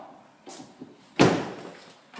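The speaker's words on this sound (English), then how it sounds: "you should hear the bonnet release." A faint click, then a sharp metallic clunk as the bonnet latch of a Range Rover Evoque pops open, close by with a brief rattling decay.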